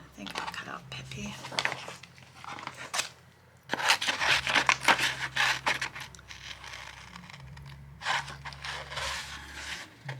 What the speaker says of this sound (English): I think I'll cut out Pippi